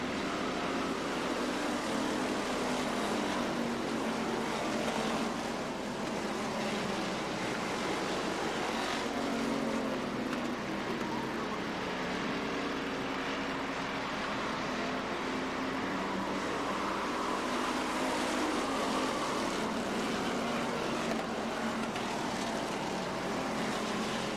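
Race cars thunder around a short track at a feature race after a single-file restart, a continuous loud roar of several engines with rising and falling passes over the whole stretch.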